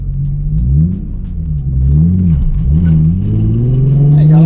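A manual Nissan 350Z or Mazda Miata engine revs up and down through the gears, its pitch rising and falling steadily, heard from inside the cabin with voices talking over it.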